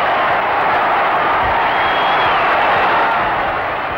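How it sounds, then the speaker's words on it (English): A big baseball crowd at the 1969 World Series, Mets against Orioles, roars in a dense, steady wall of cheering on an old kinescope broadcast recording, with no single voice standing out. "The crowd loves it."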